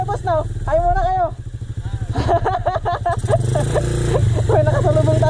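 A motorcycle passes on a narrow road, its engine rumble rising and falling close by, while someone talks excitedly over it.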